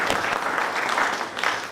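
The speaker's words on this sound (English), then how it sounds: "Can we clap for all of us, please?" Applause from a conference audience celebrating a university's first international conference, a steady, dense wash of many hands clapping together for the whole short stretch.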